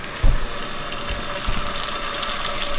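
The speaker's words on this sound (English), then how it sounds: "You want to almost hear like a searing noise." Elk steak sears in oil in a pan with a dense, steady sizzling hiss and small crackles, close and continuous.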